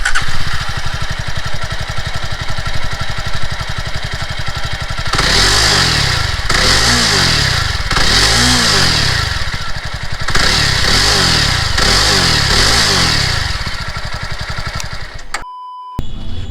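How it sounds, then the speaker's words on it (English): A 2021 Jawa 42 BS6 motorcycle with dual exhausts idles loudly close by, then gives a run of repeated throttle blips. Each rev rises and falls in pitch, and a brief beep sounds near the end. "Let's hear how the dual exhaust from the Jawa 42 might sound like"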